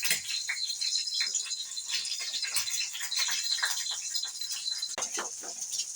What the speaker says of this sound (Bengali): সো গাইস এখানে আমি ডিম ভাজছি